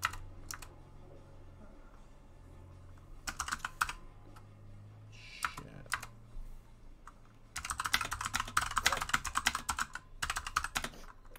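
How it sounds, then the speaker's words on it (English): Aggressive, fast typing on a computer keyboard during a collegiate Overwatch gaming stream: close, irregular bursts of rapid clacking separated by short pauses, with the densest, loudest flurry near the end. "Tristan, your typing is so aggressive."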